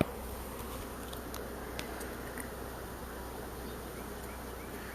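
A swarm of honeybees with drones, queens and workers, making a steady, faint, dense buzz that hangs evenly throughout with no voices.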